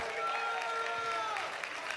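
Church congregation clapping together during a Sunday morning service, a dense steady patter of many hands at moderate distance, with a faint sustained tone beneath.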